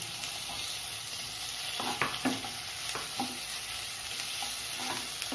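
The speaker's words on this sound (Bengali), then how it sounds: "পেঁয়াজটা এবার আধ ভাজা মতো হয়ে গেছে, এবার এর মধ্যে টমেটোটা আমি দিয়ে দিলাম।" Tomatoes tipped into half-fried onions in a hot pan for a cauliflower roast, a steady sizzle of frying with repeated scraping stir strokes and soft clicks throughout.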